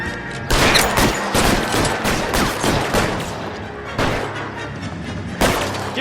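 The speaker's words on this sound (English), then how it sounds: "I'll lay down some suppression fire." Sustained bursts of suppressive gunfire from a shootout in the crime video game L.A. Noire, rapid overlapping shots and cracks rattling loudly and densely throughout, with brief gaps before fresh volleys.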